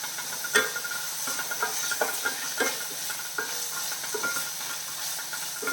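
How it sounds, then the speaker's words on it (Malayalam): Green chillies sauté in a pan over a medium flame for a ladies finger dish, with a continuous soft sizzle and hiss broken by repeated scraping stirs at an irregular pace, close by and without voices. "മീഡിയം ഫ്ലെയിമിൽ വെച്ചിട്ട് വഴറ്റിയെടുക്കാം"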